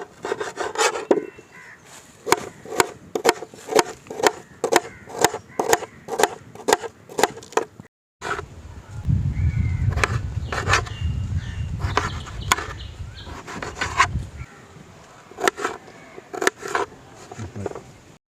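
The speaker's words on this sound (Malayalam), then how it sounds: "സവോള ഒന്ന് കട്ട് ചെയ്തെടുക്കാം." A knife chops onion on a board for a chicken dish, with a quick, evenly spaced series of crisp close cuts, then a pause and a duller stretch of rubbing and scraping as slices are gathered.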